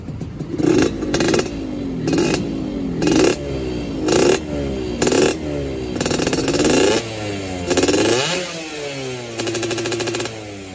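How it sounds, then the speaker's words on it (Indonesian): A Yamaha F1ZR two-stroke motorcycle fitted with an R&R Racing 3v3 exhaust revs repeatedly in short bursts, each blip rising and falling with a raspy, crackling tone, loud and close with no talk. "Untuk suara nih saya bilang sih nggak terlalu ngeratak banget ya, lebih ke merepet sih."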